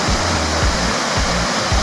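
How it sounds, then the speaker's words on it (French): Bassin Bœuf waterfall on Réunion roars nearby as a loud, steady broadband rush of falling water, with low rhythmic thumps pulsing underneath and no voices. "nous sommes arrivés au plus près de la cascade"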